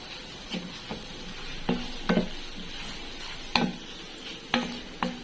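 Beef liver stirred in a hot pan for a Filipino papaitan beef dish, with a steady sizzle under about eight sharp scraping and clinking strokes of the spoon against the pan, close and fairly loud.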